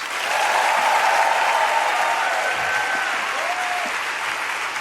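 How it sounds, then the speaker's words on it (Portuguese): A church congregation claps hands together in sustained, dense applause at worship, steady and loud throughout, with faint voices and a brief tone rising over the clapping. "Aqueles que amam a Deus, batam palmas"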